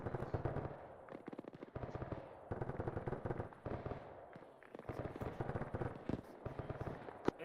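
Rapid automatic gunfire fills a military game battle in Arma, with dense, sustained bursts of shots and a few short breaks between volleys.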